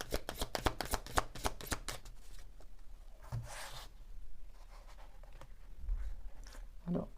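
Tarot cards shuffled and handled at close range: a quick run of crisp riffling snaps at the start, then quieter, scattered slides and taps as cards are drawn.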